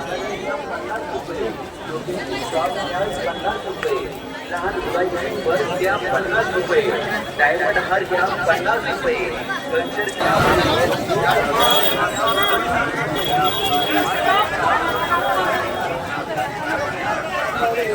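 Devotees throng a Shri Ram Navami festival at Harne Pajpandhari in Dapoli, their overlapping voices forming a constant loud babble that swells slightly midway and carries on without pause.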